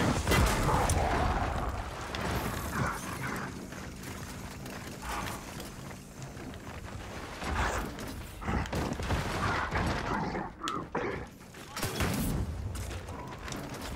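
Gunfire and Boomshot blasts during a Gears of War 4 team deathmatch: dense rattling shots and mechanical clatter, with several sharp heavy bursts near the end and faint talk now and then.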